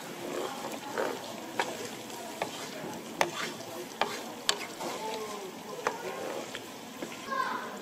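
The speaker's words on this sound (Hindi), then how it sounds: "इसको मिक्स कर लेना आपने दही को।" Yogurt is stirred into tomato chicken in a karahi pan, giving a soft sizzle with scattered sharp clicks and scrapes of a spoon, close and fairly faint, while a voice talks over it.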